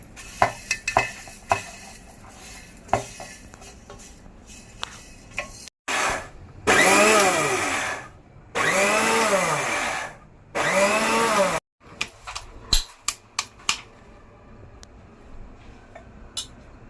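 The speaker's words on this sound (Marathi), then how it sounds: "आता आपण मिक्सरच्या जारमध्ये हे दळून घेऊया" A mixer grinder jar grinds roasted cumin and coriander seeds in three loud whirring bursts of a few seconds each, separated by short pauses, with clattering and tapping of the jar before and after.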